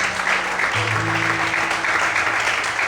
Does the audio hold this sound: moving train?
no